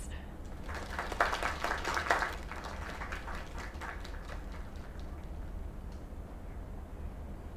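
Scattered clapping from a small crowd in the video game Lake, briefly swelling then thinning out into a steady background murmur.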